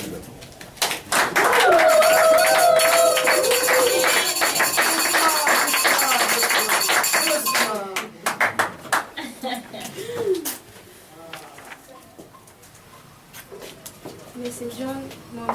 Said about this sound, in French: Il faut applaudir d'abord.